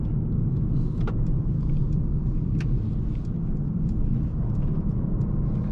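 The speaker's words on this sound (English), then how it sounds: "So now we are driving in Sport Plus, but we are driving in slow speeds." A 2024 Mercedes CLA 35 AMG Coupe facelift cruising at low speed in Sport Plus mode, its engine and road noise forming a steady, even cabin rumble throughout with no talking.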